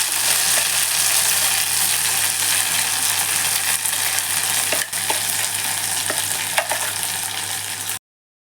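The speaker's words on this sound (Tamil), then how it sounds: "இப்போ இந்த தொகையலுக்கு தாளிப்பு போட்டாச்சு" Mustard and spices for a tempering sizzle and crackle steadily in hot oil for a large gooseberry (nelli) thuvaiyal chutney, with a few faint clicks from stirring, close and continuous throughout.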